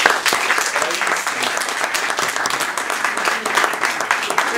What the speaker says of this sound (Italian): un altro grande applauso a loro.